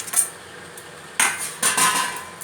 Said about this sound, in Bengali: এটা দিয়ে ভালো করে মাখবো